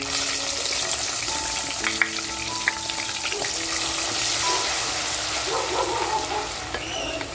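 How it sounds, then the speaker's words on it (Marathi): Raw green masala paste hisses and sizzles steadily in a hot pan with bay leaf for Nagpur-style Saoji mutton, a close, continuous fry with a few scraping clicks. "हिरवा मसाला हा कच्चा आहे त्याच्यामुळे आपल्याला तो छान असा परतवून घ्यायचा आहे"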